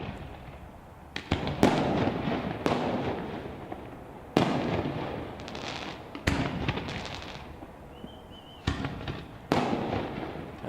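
A fireworks grand finale at a graduation show goes off in a rapid run of loud booming bursts with crackling tails, several blasts coming close together, heard from a fair distance with no talking.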